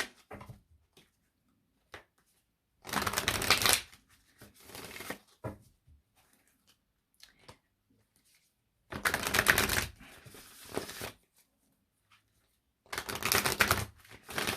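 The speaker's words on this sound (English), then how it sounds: "All right, couple more shuffles." Tarot cards are riffled and shuffled in three separate bursts, each about a second long, with quiet pauses and small handling taps between them.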